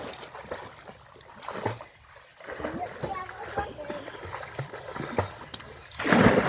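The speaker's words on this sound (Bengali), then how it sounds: "এই যে ভর পুকুরে ও সাঁতার দিচ্ছে এখন" A person swimming across a village pond, with soft splashing and rippling water close by, a few bigger splashes and a loud splash at the end, while someone talks over it throughout.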